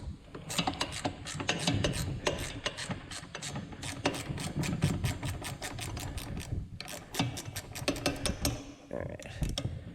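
A ratchet wrench clicks in rapid, repeated bursts while loosening a brake line on the rear suspension of a Datsun 240Z, the sharp metallic ratcheting close and steady with brief pauses between strokes.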